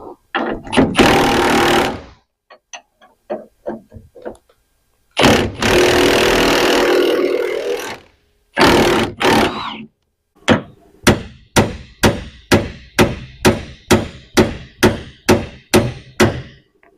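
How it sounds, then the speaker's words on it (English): Stubborn bolts on a trailer axle are worked loose with a power tool: long roaring bursts, then a rapid series of about a dozen loud, evenly spaced impact hammering blows, close by. "I'm just going to see if I can break these bolts loose so I know if I've got to cut them or not"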